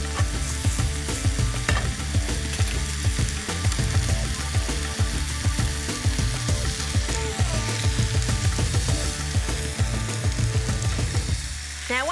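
Beef browning in a hot pan with spices and a cinnamon stick for a Malaysian beef curry, a loud continuous sizzle broken by rhythmic scraping and stirring strokes throughout.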